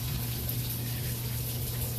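Steady, close rushing of water backing up through a plumbing clean out as a laundry tub drains, a constant gushing flow with no pauses.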